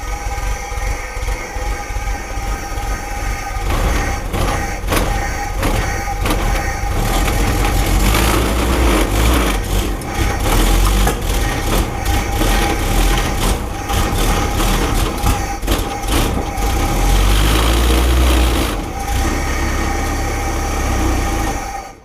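A Ford GPW jeep's engine runs steadily after starting, a loud, close, rough idle with low rumble that swells slightly and holds without interruption, no voices.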